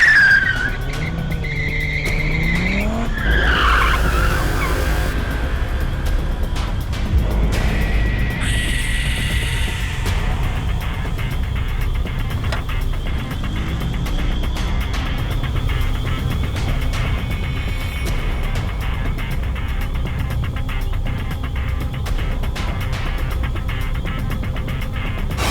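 A car's tires skid with a sharp screech, then the engine roars steadily as the vehicle drives off, leaving a loud, continuous rumble with rattling mechanical noise throughout.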